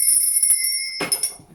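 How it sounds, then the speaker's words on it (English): A small handheld lady bell rings with bright, sustained high tones, first struck softly several times, then rung harder near the end with a few sharp clangs that shimmer and decay. "this is my lady bell. I'll be ringing this just to cleanse the air"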